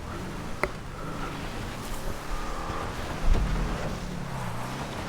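In a video game, a Z-Type car drives a test track. Its engine hums moderately loud, with a brief tire squeal and a few pitch shifts as it slows and accelerates.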